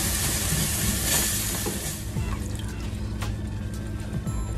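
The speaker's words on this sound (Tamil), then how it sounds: "கொஞ்சமாக மில்க் ஊற்றிக்கலாம்" Milk is poured into a pan to make a cream sauce, a steady close liquid hiss and trickle with faint sizzling running the whole time and a few soft clinks.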